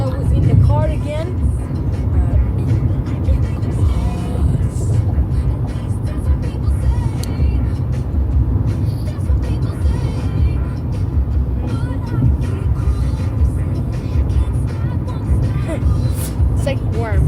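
Steady road rumble and engine drone from inside a moving car, a continuous low hum with faint rattles and bumps throughout.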